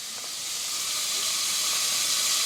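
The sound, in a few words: sizzling in a frying pan while melting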